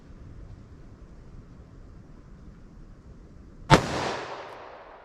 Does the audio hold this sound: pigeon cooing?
no